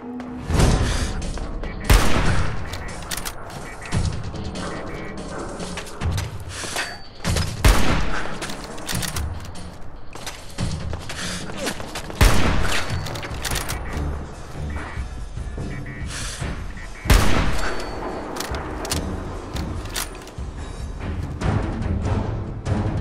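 Gunfire in the video game Fallout 4 in an indoor firefight, with repeated loud sharp shots and bursts that come in clusters over dense game noise, some heavy impacts standing out.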